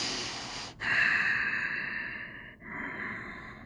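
Deep breathing during yoga practice, heard up close: a sharp intake followed by a long, audible exhale, then a second, slightly softer breath out, with no talking.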